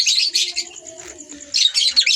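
Birds chirp and tweet in quick bursts, bright and fairly close, with softer cooing in the background between the louder flurries, as birds escape from a flight cage.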